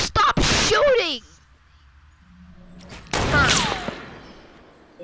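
Bursts of gunfire in the video game Fortnite come in two loud clusters, one at the start and one after a quiet gap, with players talking between them.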